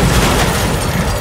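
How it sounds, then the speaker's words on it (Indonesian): A car blowing up in a Tokyo Revengers film scene, one sustained loud roaring blast that fills the whole moment with dense rumbling noise and no voices. "Dan kembali mobil itu meledak."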